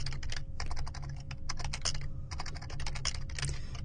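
Steady typing on a computer keyboard while building an MVC 5 web application, with dense runs of clicky keystrokes in bursts and brief pauses, close and fairly quiet, no talking.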